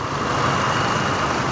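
A 2004 Dodge Durango's 5.7-liter V8 Magnum Hemi idles steadily with the hood up, a constant broadband engine rumble and hiss with no talk.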